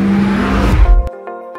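A Porsche Taycan Turbo electric car accelerating hard, a loud, close broadband whoosh with an electric whine and tire noise that builds then cuts off abruptly, leaving a faint tonal hum.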